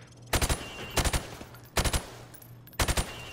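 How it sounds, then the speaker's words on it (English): Rifle fire through plywood in Infinite Warfare comes as four quick bursts of three or four rapid, loud shots each, separated by short pauses, close and without talk. "I want you to shoot the targets through the wood."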